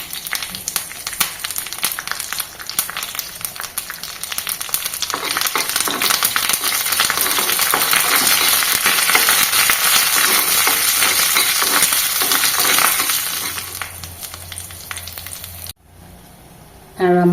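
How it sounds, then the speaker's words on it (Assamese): Mustard seeds, cumin, curry leaves and dried red chilies crackle and sizzle hard in hot oil in a steady, loud, close spatter, dropping abruptly near the end to a quiet hum. "তেলখিনি গৰম হ'লত এয়া মই সৰিয়হ কেইটামান দি দিছোঁ, ইয়াতে জিৰা কেইটামানো আছিলে। তাতে এতিয়া নৰসিংহ পাত কেইখিনিমান দি লওঁ আৰু শুকান জলকীয়া দি দিম।"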